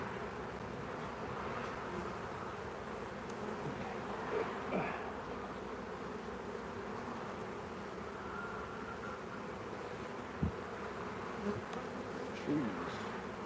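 Honeybees buzz in a steady, dense drone during a live hive inspection on a farmstead, with a few faint clicks and handling noises over the swarm hum and no talking.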